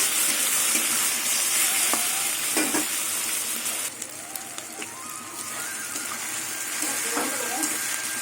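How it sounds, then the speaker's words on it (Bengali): Onion, garlic and shrimp fry in hot oil in a pan for a taro-leaf and mung dal dish, giving a steady close sizzle broken by occasional scraping stirs. "পেঁয়াজ রসুন চিংড়ি মাছ দিয়ে কিছুক্ষণ ভাজা ভাজা করে নেবো ভালো করে"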